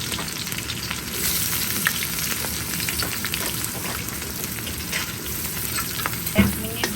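Onions sizzle in mustard oil for a kala bhuna while being stirred, a continuous close frying hiss with scraping stir strokes and a louder clatter near the end, no voices.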